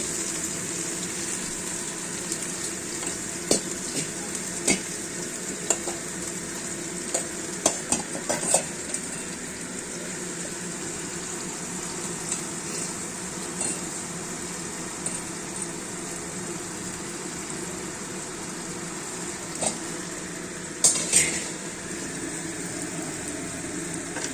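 Drumstick flowers fry in an open pan with salt and turmeric, a steady soft sizzle with a bubbling, watery edge, broken by occasional spatula scrapes and stirring clinks close by.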